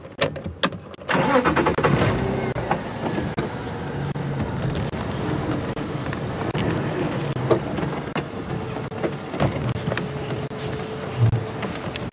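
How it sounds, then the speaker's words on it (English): A safari game-drive vehicle at Djuma Game Reserve starts up with a few clicks and then runs steadily as it moves off, engine rumble close and constant throughout. "I'm just going to move the car quickly"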